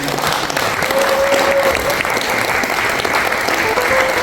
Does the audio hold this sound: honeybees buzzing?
no